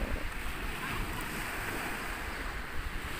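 Sea waves wash onto a sandy beach in a continuous broadband rush, with wind buffeting the microphone and no voices heard.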